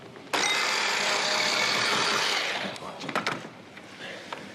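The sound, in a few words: blender blending shallots, thyme and egg yolk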